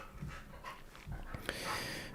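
A dog sound from a stream donation alert plays as a few soft, breathy pants and whimpers, with a sharper burst near the end over a steady low background.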